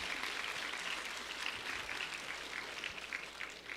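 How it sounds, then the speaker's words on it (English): At a Cherokee ambassador competition, an audience gives a round of applause, a soft, distant wash of steady clapping lasting a few seconds. "Can we give Miss Eva a round of applause?"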